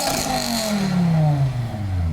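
A BMW M6 E63 with its V10 engine revs through the exhaust, a raspy, droning tone sweeping downward as the revs fall off, loud and close with no talking.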